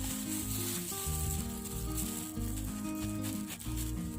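Odading dough sizzling as it fries in hot oil, a steady crackling hiss throughout while music with a clear melodic line plays along underneath.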